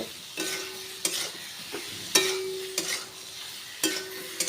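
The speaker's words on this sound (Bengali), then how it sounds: "ঝিঙে দিয়ে একটু নেড়ে চেড়ে নেব, মশলার সঙ্গে ঝিঙেগুলো মিশিয়ে নেব।" Ridge gourd being stirred into fried spice paste in a pan, with a spatula scraping in periodic strokes about once a second over a steady close sizzle, no voices.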